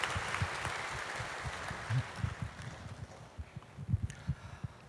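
A church congregation at a diaspora mission conference claps in encouragement for a new believer, a moderate round of applause in a large hall that gradually thins out.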